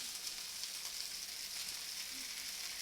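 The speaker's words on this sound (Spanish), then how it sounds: "Y vamos a echar los camarones." Shrimp tipped into a pan of Chinese-style fried rice, setting off a steady, loud, close sizzle of hot oil that holds evenly throughout with no voices.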